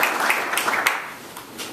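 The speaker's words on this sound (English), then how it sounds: "Let's give Doug another big round of applause" Brief burst of audience applause at a mayoral event at North Brothers Ford dealership in Westland, steady clapping from a nearby crowd with a few sharper claps standing out, fading slightly toward the end.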